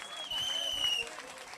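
Brief burst of applause from a church congregation, faint and somewhat distant, with scattered claps rising for about a second amid background voices and a high ringing tone.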